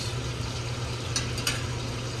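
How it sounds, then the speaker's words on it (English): Steaks sear in a hot pan while being basted, giving a continuous close, hissing sizzle with a couple of brief sharper spatters midway. "all we're really trying to do now is get that sear that you might get from the grill on it"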